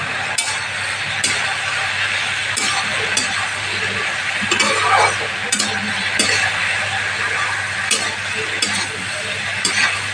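A spatula stirs a dry-roasted, freshly ground spice mix into a sizzling pan of shukto, scraping and clinking against the metal in steady, close strokes over a constant frying hiss.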